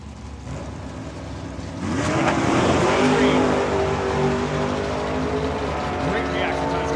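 Bantam drag race car making a fast pass at a raceway, engine noise rising sharply and staying loud and sustained with a rising whine, while an announcer talks over it.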